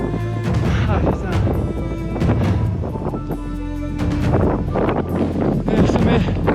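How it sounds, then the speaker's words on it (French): Strong, gusty wind buffets the microphone on a high mountain ridge near the summit of Broad Peak, a loud, steady roar with low rumbling surges throughout, while voices come through faintly beneath it. "Il y a plus de vent que prévu."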